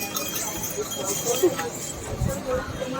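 Horses' hooves clop on the pilgrimage path to Vaishno Devi, an uneven, steady clatter under constant crowd noise and nearby talking.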